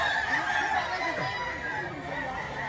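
Chickens and roosters at a busy poultry market in Batangas, a mix of clucks and fowl calls over a constant crowd murmur, with people talking nearby.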